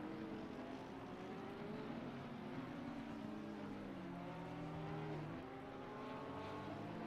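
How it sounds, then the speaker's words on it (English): Honda VTEC race car in a racing video game at the Hungaroring, engine note rising and shifting as the car accelerates, with other engines droning alongside at a moderate, steady level. "See that Honda VTEC rocket away from that McLaren."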